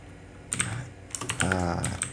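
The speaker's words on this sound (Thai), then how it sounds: "แล้วพิมพ์คำสั่งนี้เข้าไปครับ" Keys clack irregularly on a computer keyboard as a command is typed into Windows CMD, close and fairly quiet, a short burst of separate taps with no speech.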